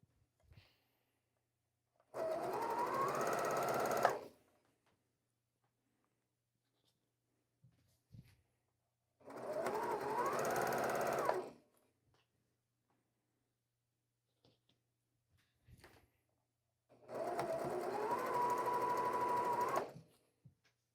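A sewing machine chain-pieces quilt units in three separate bursts of steady stitching, each about two seconds long, with near-silent pauses between them and no talking.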